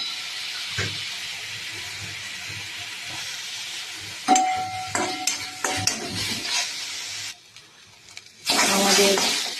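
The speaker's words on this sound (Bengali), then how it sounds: "নুন হলুদ দিয়ে এটাকে ভালো করে এবার নেড়ে নিতে হবে।" Bean paste with salt and turmeric stirred in a pan, with soft hissing, then a burst of clattering spoon scrapes and a loud steamy sizzle near the end, close by.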